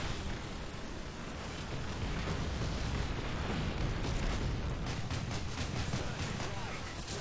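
Dense, continuous rumbling explosions and heavy booms from a bomber attack in War Thunder ground battles, with a Pz. III tank in play, filling the scene loudly throughout with no clear pauses.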